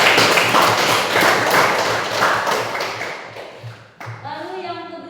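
Classroom of pupils clapping hands together, a dense, loud burst of applause that fades out after a few seconds, followed by a voice starting to talk.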